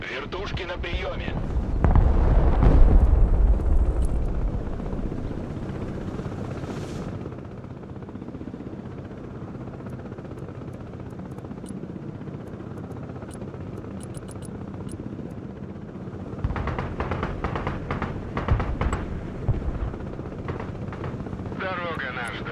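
Military helicopters in the real-time strategy game Broken Arrow give a rotor and engine roar that swells loudly early, then settles into a steady background drone beneath radio voice chatter, with bursts of gunfire and explosions later.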